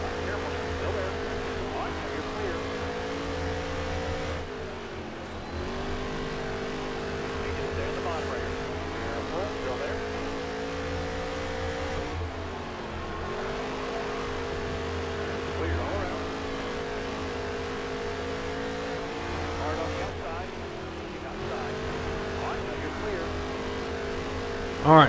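Several NASCAR race cars roar around the Eldora dirt track in NASCAR Heat 3, a steady, loud engine drone whose pitch dips and climbs as they lift and accelerate through each turn.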